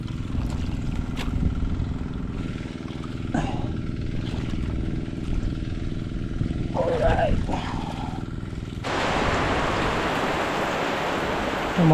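Steady rain hisses throughout, growing noticeably heavier and louder near the end, with a few faint voices and knocks in the background.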